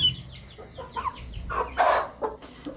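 A chicken clucks repeatedly in short, uneven bursts, close by, with a few louder squawky notes against a quiet background.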